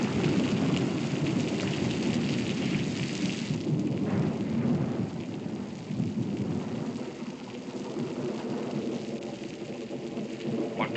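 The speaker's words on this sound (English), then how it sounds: "when this storm lets loose" Heavy rain pours steadily while thunder rumbles loudly and continuously in the first seconds, then eases into a softer rolling growl under the downpour, with no talk.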